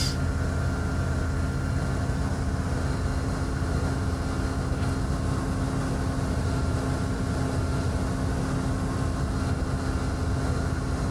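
A VSkyLabs EuroFox light aircraft engine runs steadily in X-Plane, a constant close drone with a strong low hum and faint tonal whine, unbroken for the whole stretch.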